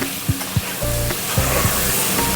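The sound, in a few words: eggs frying in hot oil with salt and turmeric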